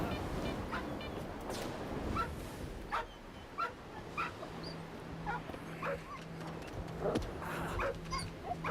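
A mutant dog in S.T.A.L.K.E.R. 2 on PS5 gives a scattered series of short yips, whimpers and barks, moderately close, over a low ambient game hum.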